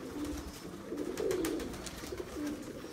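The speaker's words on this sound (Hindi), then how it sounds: "ये कबूतर" Pigeons coo on a rooftop loft, a low repeated throaty cooing in a steady rhythm, fairly close, with faint background hiss and no speech.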